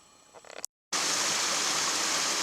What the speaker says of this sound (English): Second crossing of Moose Creek, going to the west side of the creek